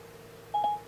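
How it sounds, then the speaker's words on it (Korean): Outgoing call tone from Apple CarPlay in a Land Rover, a single short electronic beep or dial tone, clear and close against a quiet cabin. "전화 거는 중"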